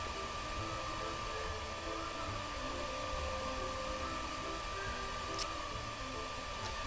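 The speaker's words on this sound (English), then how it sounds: "A blow dryer toasting bread." A steady, whooshing hum of a blow dryer toasting bread in a video game, continuous and fairly quiet with a faint tonal whine and no voices.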